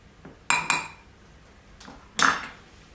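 A spoon or utensil clinks against a bowl while carrot cake batter is mixed in a home kitchen, giving a few sharp metallic knocks with quiet pauses between them.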